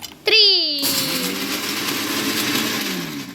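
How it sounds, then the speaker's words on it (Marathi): An electric kitchen mixer grinder spins up with a rising motor whine, then settles into a steady, loud grinding roar as it powders packaged biscuits for a cake. "आता हे मिक्सरमधून आपण बारीक करून घेऊ"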